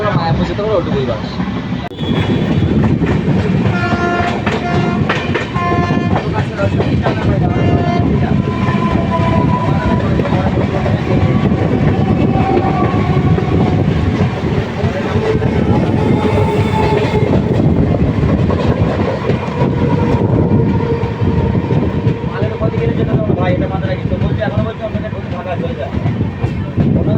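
Howrah Balurghat Express running along the rails, a loud steady rumble with continuous wheel clatter and brief horn-like tones throughout, with voices faintly audible inside the carriage.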